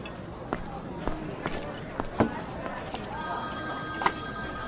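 A telephone rings several times in a French-dubbed drama scene, the short bell bursts spaced across the clip over a soft room background, fairly faint and with no talk over them.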